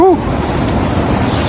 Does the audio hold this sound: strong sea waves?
yes